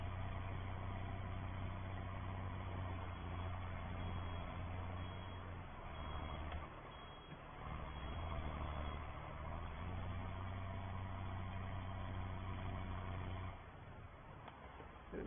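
A Ford 7810 tractor pulling a blue baler through straw and hay, its engine a steady, loud drone with a low throb running throughout, dipping briefly midway and easing near the end.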